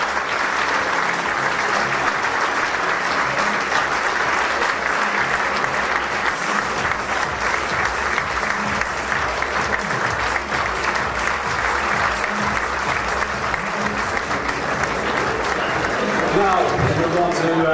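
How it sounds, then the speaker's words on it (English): Sustained applause from an audience at a football league awards ceremony, steady and dense throughout with a faint murmur of voices underneath, lasting the full stretch without pause. "Ladies and gents, can you please stand and give a round of applause for Harry Griffiths of the Wicklow League"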